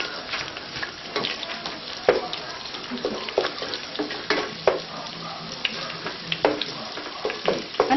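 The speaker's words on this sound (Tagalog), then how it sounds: "Lutuin muna natin yung garlic para maging brown." Garlic sizzles in a pan alongside browned fish for a seafood marinara, giving a steady close fry with scattered clicks and stirring scrapes throughout.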